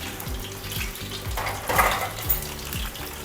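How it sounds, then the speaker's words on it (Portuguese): Breaded steak shallow-frying in oil in a pan, a soft continuous sizzle with rhythmic scraping strokes of a utensil, close and fairly quiet. "você pode fazer essa fritura só para dourar"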